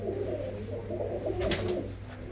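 Soft, low pigeon coos repeating close by, a gentle burbling rhythm over a quiet background.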